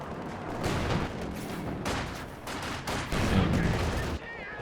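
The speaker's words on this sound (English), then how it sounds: "Double Flak Panzers inflicting some nice damage here." Flak Panzer anti-aircraft guns in a Company of Heroes 2 battle, firing rapid bursts of gunfire in a dense, sustained barrage amid battlefield rumble, loud and close for several seconds.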